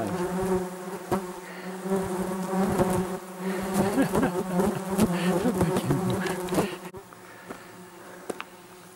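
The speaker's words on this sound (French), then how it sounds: "Je sais pas ce qu'on voit avec toutes les mouches qui sont devant." Many flies buzz loudly and continuously right around a camera lens during a mountain hike, several passing close with droning tones, then quieter after about seven seconds.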